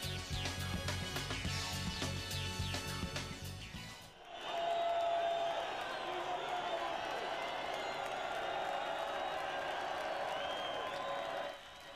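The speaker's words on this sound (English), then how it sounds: "They deserve all those applause, don't they?" Crowd applause and cheering at Mugello after the 2004 Italian MotoGP Grand Prix, sustained and broad. Music plays for the first few seconds before the clapping takes over at steady loudness.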